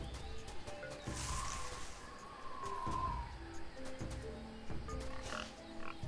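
Boar grunting in the Tales of Monkey Island adventure game, short low snorting grunts recurring over ambient game music with tonal notes, moderately loud amid soft background sound.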